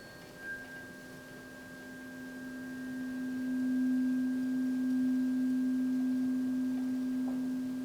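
A struck tuning fork rings as a steady pure tone that swells noticeably louder midway as it reaches a resonant position, then holds strong and sustained with no talking.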